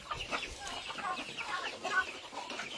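Itik ducks on a farm calling for feed, a busy chorus of overlapping clucking, quacking calls close by with steady farmyard background noise.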